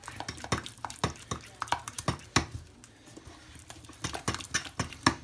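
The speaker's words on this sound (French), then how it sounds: "vous ajoutez votre jaune d'œuf que vous remuez bien" Egg yolk stirred into melted chocolate in a bowl, a quiet run of rhythmic scraping and soft knocks of a utensil against the bowl, close and without talk.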